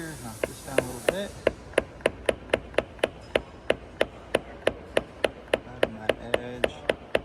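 A PDR knockdown tool taps down a dent in a car panel with sharp, even taps that repeat in a fast regular rhythm, close and crisp, while a person talks over the first moments.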